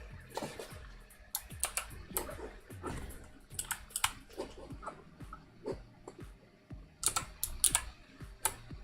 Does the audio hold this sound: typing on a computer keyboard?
yes